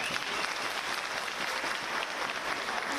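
Delegates at the SADTU teachers union's 10th National Congress applaud in a hall, steady dense clapping from a large crowd that holds evenly throughout.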